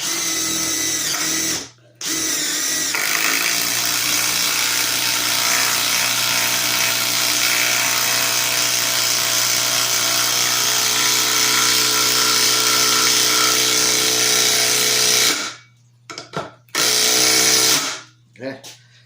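A new DeWalt 12v Xtreme impact wrench works loose an old bolt with a long, loud, steady whirring buzz, briefly interrupted near the start. It stops with a few short bursts at the end, and a voice can be heard.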